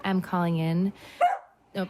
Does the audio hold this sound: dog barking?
yes